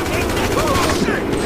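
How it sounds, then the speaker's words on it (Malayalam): Rapid gunfire in a shooting video game crackles loudly and continuously through a brief burst, with game noise and a voice talking underneath. "ഇനി നമുക്ക് എന്തായാലും വെടി വെക്കാം."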